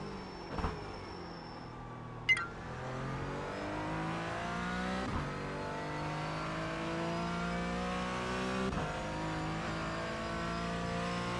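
An iRacing race car braking hard into a turn and downshifting to second gear, its engine note falling and stepping through gear changes, with sharp blips near the start and a steady revving drone carrying through.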